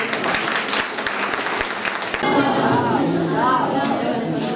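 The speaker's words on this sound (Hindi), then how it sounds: "आप भरपूर तालियां बजाइए" Applause from an audience at a Pakistani poetry recital (mushaira), a steady wash of clapping that swells midway and carries on with a faint voice or tone riding over it.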